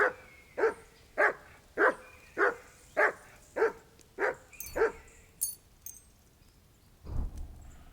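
A dog in the medieval video game Kingdom Come: Deliverance 2 barks eight times in a steady, evenly spaced series, fairly close and clear, followed by a few faint game sounds and a low thump.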